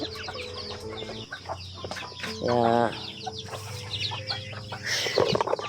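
Chickens cluck and cackle close by in a busy farmyard, with a brief spoken word amid the birds.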